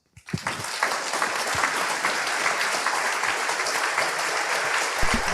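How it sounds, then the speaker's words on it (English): Sustained applause from an audience at an Oxford debate, a dense wash of clapping that starts abruptly and holds steady and loud throughout. "I don't know what you're clapping for."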